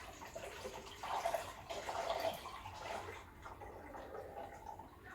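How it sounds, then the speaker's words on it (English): Water running into the tank of a Breville Dual Boiler BES920 espresso machine, a soft, steady pouring and trickling for several seconds, fairly quiet and close. "it looks like I'm slightly low on water, so I'm just gonna fill it a little bit."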